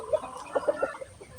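Chickens on a Philippine poultry farm cluck close by, a few short clucks in a quick broken rhythm, fairly clear against soft background noise.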